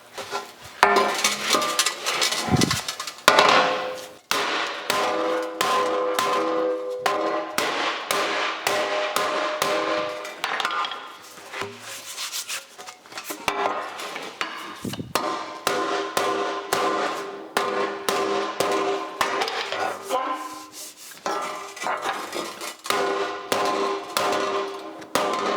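Stuck bolts are hammered out of an old 1956 Chrysler bumper, with loud ringing metal strikes in quick irregular bursts and brief pauses, close and unaccompanied by talk.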